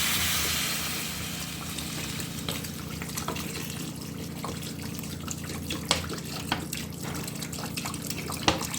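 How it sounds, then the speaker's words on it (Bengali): Water pours steadily into a pan of fried potato and drumstick curry, a continuous splashing wash with a few louder drips and clinks near the end, close and alone without talk. "এবার জল দিয়ে দিচ্ছি।"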